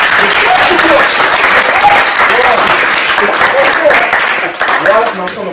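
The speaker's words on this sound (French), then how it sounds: "Applaudissez pour Biscotte, s'il vous plaît." Studio audience at a French comedy talk show applauding steadily for several seconds, a dense, loud wash of clapping with some voices calling out underneath, tapering slightly near the end.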